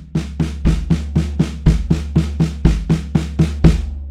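A drum plays a steady run of sixteenth-note hits, about a dozen evenly spaced strokes with low booming thumps and heavier accents recurring every few beats, close and loud with no talk.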